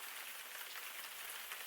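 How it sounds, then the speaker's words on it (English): Rain taps against a window during a storm, a steady, dense patter that holds at an even level throughout with no voices. "the storm grows louder, the rain tapping against the window in a steady rhythm"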